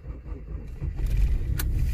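A car engine cranks on power from an Autowit SuperCap2 supercapacitor jump starter: a low, rough churning rumble that builds and holds for a couple of seconds without clearly catching.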